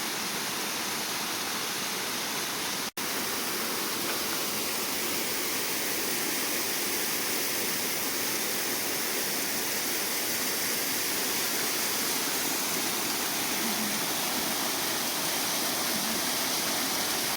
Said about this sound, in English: I guess these are the real waterfalls.